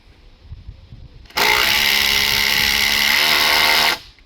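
A power tool drives a big screw into gazebo timber, a loud steady whirring burst of about two and a half seconds that starts and stops abruptly after quiet background rustle.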